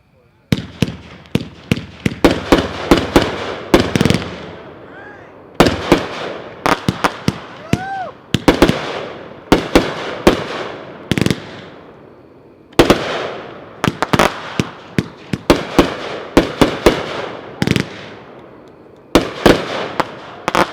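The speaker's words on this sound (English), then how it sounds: "Number 4 is Forged, Pyroland brand, packed 2-1, 30 shots." A Pyroland Forged 30-shot firework cake fires in rapid bursts of loud booming shots, with crackling breaks and short pauses between volleys and a whistling streak in the middle.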